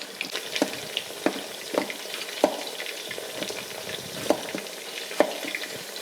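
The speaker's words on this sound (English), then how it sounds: "While this is frying" Food fries in a pan during garden-harvest dinner cooking, a steady crackling sizzle broken by periodic sharper pops and stirring clicks, close and alone with no talking.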